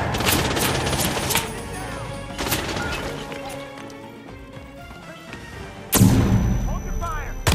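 Sharp gunshots and heavy bursts of fire in Hitman 3, loud volleys at the start and a renewed blast near the end, with quieter stretches between them and shouted voices mixed in.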